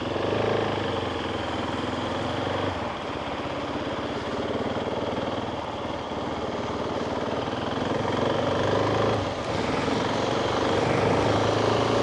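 GasGas 690 single-cylinder motorcycle engine on a first ride in wet weather, a steady loud drone with wind rush throughout, rising and falling slightly with throttle.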